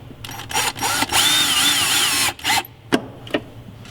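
Power drill driving screws into plastic trim on a Sprinter van during a remote start install, several loud whirring bursts of varying length, with one long sustained run, between short pauses.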